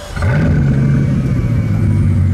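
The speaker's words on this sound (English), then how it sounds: "There's more grumble and roar from the car." A Bugatti Chiron's engine fires up and settles into a loud, steady deep rumble with a low growling tone held close by, with no talk over it.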